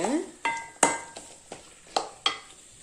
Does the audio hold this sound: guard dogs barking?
no